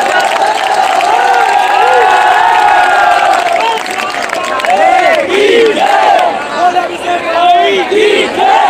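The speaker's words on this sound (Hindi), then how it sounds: "अगर आप लोगों को भजन सुंदर लगे हो तो जोरदार तालियां बजाएं" A crowd cheers and shouts loudly after a devotional bhajan at a temple event, with sustained whooping and raised voices over scattered clapping that continues throughout.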